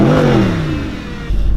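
A Mercedes SLS AMG engine revs hard and then falls in pitch as it winds down, followed by a low rumbling idle near the end.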